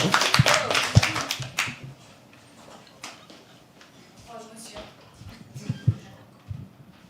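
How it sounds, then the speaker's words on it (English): Scattered hand claps from a small audience at a live poetry open mic, a few sharp claps early then sparse, uneven bursts with background voices and murmuring around them. "Please keep clapping till she comes."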